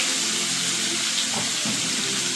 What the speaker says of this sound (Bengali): আমার এই ধুয়ে কেটে রাখা লাউ দিয়ে দেবো তেলের মধ্যে